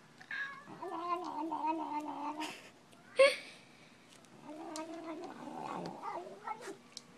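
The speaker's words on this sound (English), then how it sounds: "That's when you know she loves something because she starts meowing." A pet cat meows in a drawn-out, warbling series, pausing once with a brief sharp noise before another long run of meows, close and fairly loud.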